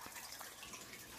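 Water running steadily during a half water change on a home fish tank, a continuous faint splashing flow with no talking.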